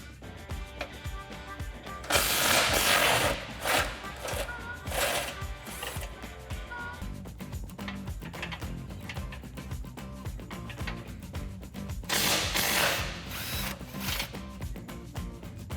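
A ratchet with an 18 mm socket works the skid plate bolts on a Jeep Gladiator JT, giving close, rapid clicking bursts in several separate runs with quieter gaps of handling between them.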